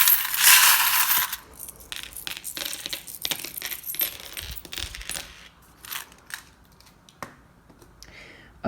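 Dice rattle and tumble across a surface for a tarot reading, a burst of sharp clicks followed by scattered, fading taps and clatters.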